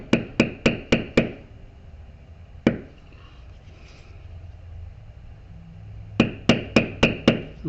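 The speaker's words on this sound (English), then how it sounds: "let me bevel a little of this out, and we'll use that matting tool" Metal matting tool struck into tooled leather for a skull and spider web design, a quick run of five sharp taps, one lone strike, then another rapid series of five, close and crisp.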